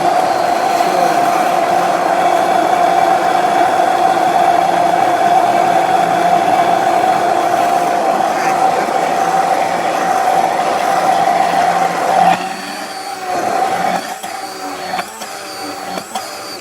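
A stick blender whirs steadily, blending olive oil into a mixture with a loud, constant motor drone and a sustained mid-range tone, then shifts near the end into choppier, uneven churning as it moves up and down.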